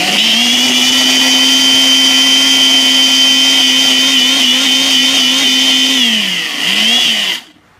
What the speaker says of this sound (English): now we're ready to get this blended